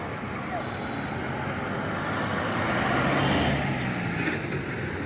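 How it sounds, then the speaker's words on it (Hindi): Road traffic rumbles steadily as vehicles slowly pull away from a jammed bus stand in Reasi, a continuous engine drone that swells slightly midway. Someone talks over it throughout. "और अब धीरे धीरे कर वाहन यहाँ से निकल रहे हैं"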